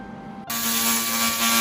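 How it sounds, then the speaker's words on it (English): A fiber laser machine in cleaning mode starts up abruptly after a quiet hum, producing a loud, steady buzzing hiss with a sharp tonal whine as it removes rust. "Fiberlaser cleaning mode. It is mainly used for removing rust and paint."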